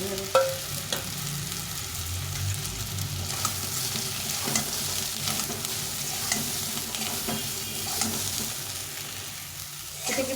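Soybean chunks fry in an oily wok and are stirred steadily, giving a continuous close sizzle broken by scraping and clattering strokes throughout, with no talking.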